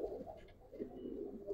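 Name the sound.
Giribaz pigeon cooing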